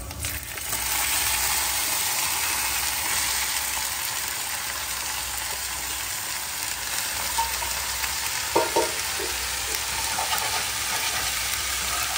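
Green chilies, onion and crushed garlic fry in a pan with a steady, close, hissing sizzle that runs throughout, broken by a few light stirring clinks, and no one speaks.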